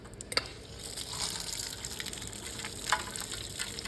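Water rinsing Simple Green cleaner and grime off Q*bert arcade cabinet parts, a steady gushing spray running throughout with a couple of brief splashy bursts.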